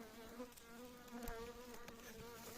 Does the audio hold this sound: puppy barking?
no